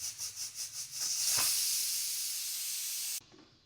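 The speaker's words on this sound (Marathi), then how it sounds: "आता मी गॅस बंद करून घेते आणि शिटीमधली मी वाफ काढून घेते" Steam released from a pressure cooker whistle, starting with a few quick pulsing puffs and then becoming a strong continuous close hiss that stops abruptly.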